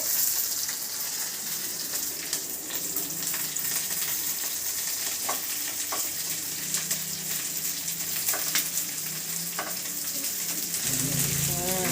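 Shredded cabbage sautés in a hot pan in a home kitchen, a steady crackling sizzle with occasional scraping clicks of a spoon stirring against the metal, close and continuous.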